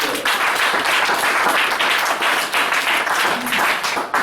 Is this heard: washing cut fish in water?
no